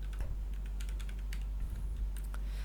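Quick, steady keystrokes on a computer keyboard as a word is typed, light close-up clicks in a continuous run over a low hum.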